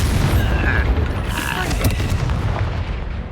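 Expelliarmus spell being cast during combat in the video game Hogwarts Legacy: a dense, continuous magical blast with booming low rumble and crackling bursts that holds steady and loud throughout.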